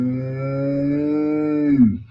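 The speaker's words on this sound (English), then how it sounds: "Moo!" A single drawn-out cow moo holds a steady pitch for nearly two seconds, then slides down and cuts off. It is loud and close, with no talk over it.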